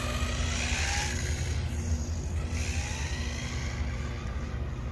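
A ZD Racing Thunder B-10E electric RC buggy running on 3S power drives around a parking lot, its motor whine rising and falling as it passes at moderate distance over steady road noise.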